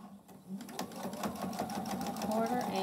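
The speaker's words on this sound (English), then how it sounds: "So I'm going to stitch" A sewing machine runs steadily, stitching a flat felled seam a quarter inch from the original stitching line on a denim-style sample, its motor whirring continuously with a loud, even rhythm close to the microphone.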